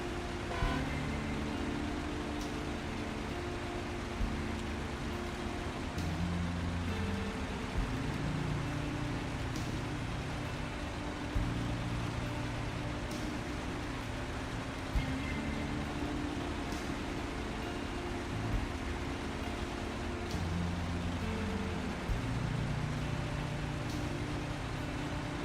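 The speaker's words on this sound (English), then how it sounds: "This guy's not a very loud truck." A quiet truck engine idles and runs steadily in the snowy off-road game SnowRunner, set in Kola, a low continuous rumble with slight shifts in tone and no talk over it.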